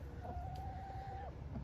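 A hen lets out a single drawn-out call at moderate distance, over a low background murmur.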